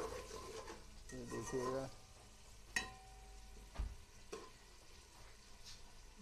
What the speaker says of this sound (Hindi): नमक डाल के इसको हम फ्राई कर रहे हैं